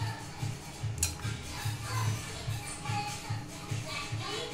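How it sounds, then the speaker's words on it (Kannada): Hand mixing a wet kebab paste of vinegar and soy sauce for fish tawa fry, giving soft, steady squelching and shuffling in a regular rhythm, close and moderately quiet, with no talk. "ಇವಾಗ ಇದನ್ನೆಲ್ಲ ಮಿಕ್ಸ್ ಮಾಡೋಣ ಕೈಯಲ್ಲಿ."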